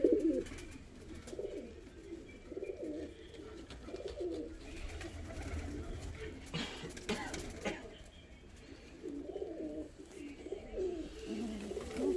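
Fancy show and costume pigeons of the English short-faced breed coo softly in low repeated phrases, faint and fairly close, with an occasional cough-like sound among them.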